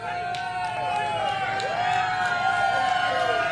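Crowd cheering and whooping for Donald Trump, a steady, lively mass of voices with scattered shouts holding at a constant level throughout.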